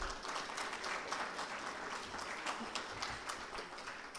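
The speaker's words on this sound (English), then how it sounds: "Can we please have a huge round of applause?" Audience at a leadership conference in Pakistan breaks into sustained applause, a dense, even wash of many hands clapping that holds steady for about four seconds without talk.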